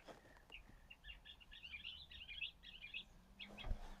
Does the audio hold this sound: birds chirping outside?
yes